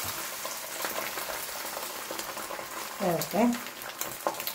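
Beaten egg for an omelette sizzles and fries steadily in a pan, with a brief louder burst of stirring or movement partway through and a short spoken word over the cooking.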